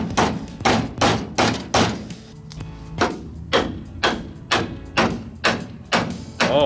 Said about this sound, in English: I decided to test the shock with a hammer.